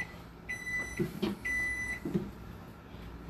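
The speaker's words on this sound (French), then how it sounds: "Donc, le micro-grill est réchauffé." Microwave grill beeping after preheating, two long steady electronic tones separated by short pauses, with faint clunks and handling sounds of the oven between them, quiet and close.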